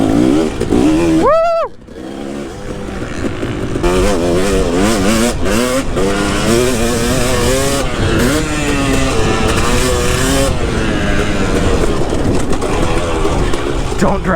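A Kawasaki KX two-stroke motocross bike, around 100cc, rides close by with a loud, continuous buzzing engine that rises and falls through the gears; a sharp rev spike early on, and a voice cheers briefly over it.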